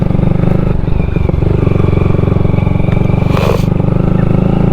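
Honda Grom motorcycle riding over snow, a loud close steady engine drone with low throbbing rumble and some clattering scrape from the wheels, continuous throughout.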